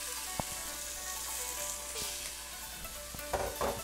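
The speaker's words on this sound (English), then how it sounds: "we're gonna stir fry this for approximately, 2 to 3 minutes" Small diced carrots and frozen peas stir-fry in a pan with a soft, steady sizzle, broken by a few light clicks and scrapes of a utensil stirring; fairly quiet and close, with no voices.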